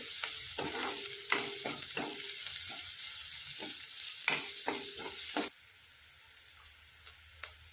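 Garlic roasting in a pan for a spicy brinjal bharit, crackling fry sizzle with rhythmic spatula stirring and tapping against the pan, close; the sizzle drops away abruptly near the end, leaving a faint quiet background.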